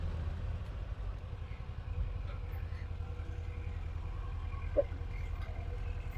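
A car on a farm driving along with a steady, low engine rumble and road drone throughout, moderately close, with one brief knock partway through and no talking.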